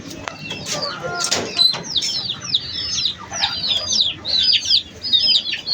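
Chickens and chicks on a poultry farm cluck and peep, with a run of rapid, high chirping calls repeating in quick bursts over a softer background of farmyard clucking and shuffling.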